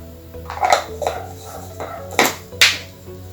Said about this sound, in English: the dogs in the neighborhood are going crazy today, so if you can hear them barking